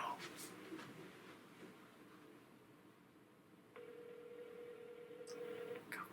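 A single long ringback tone sounds over a phone line during a prank call, steady and clear for about a second and a half, with faint background chatter and noise before it.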